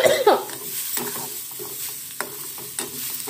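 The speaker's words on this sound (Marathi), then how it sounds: "लवंगी मिरची त्यावर खार छान फुटायला लागला" Green chillies sizzle in hot tempering oil as a spoon stirs the pan, giving a close, steady crackle broken by scraping strokes and a few louder pops, with no talking.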